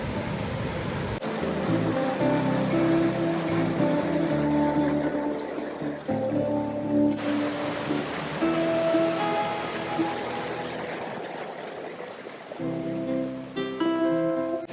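Small creek flowing beside a trail on the Grotto Falls hike during spring runoff, a steady rushing wash of water, fairly close, with scattered knocks and rustles over it.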